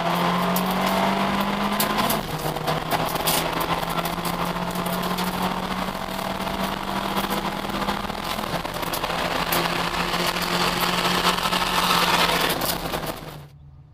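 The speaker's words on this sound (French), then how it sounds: "On revoit le départ en caméra embarquée avec Alexis Van de Poel." Fiat Abarth race cars at a Trofeo Abarth race start heard from an onboard camera, a loud continuous engine roar climbing in pitch through the gears with brief shift dips, ending abruptly.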